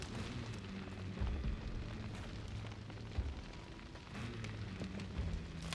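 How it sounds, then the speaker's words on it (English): Fire at Fort Bolden in Hunt: Showdown, with wood and other material burning, roars steadily and fairly loud, a dense crackling rumble with scattered pops and low thuds throughout. "The fire is not only loud as hell"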